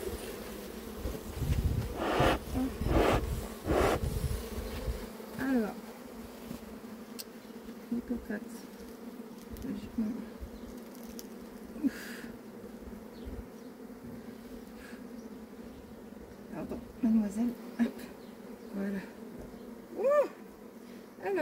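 Honeybees buzz around an open hive during an inspection, a steady hum with individual bees droning past close by, punctuated by handling knocks and occasional quiet speech.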